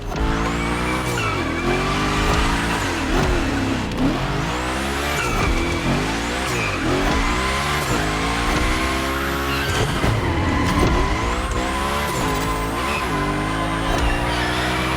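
A car drifts and slides through a gymkhana course in The Crew Motorfest: loud engine revs rise and fall in repeated surges, with tire squeal as the car swings through big slides.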